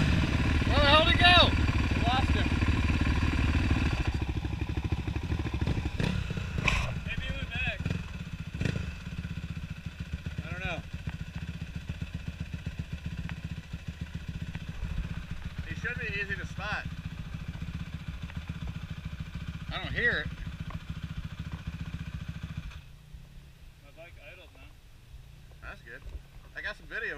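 Two-stroke motorcycle engine running loud and close for most of the stretch, with buzzy revving and wind noise on the microphone, then dropping away near the end.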